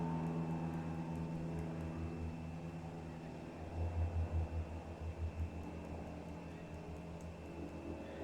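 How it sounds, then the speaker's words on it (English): A fixed-wing airplane flying overhead, a low steady droning rumble with a pulsing throb that swells slightly partway through, distant and faint over a quiet room. "Hey, listen, there's an airplane."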